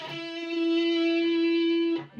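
A distorted electric guitar plays part of a shred riff, a quick pick attack leading into one long sustained note that ends abruptly, loud and close.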